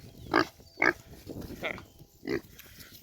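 A pet pig gives a series of short, close grunts spaced about half a second apart, with a person talking quietly in between.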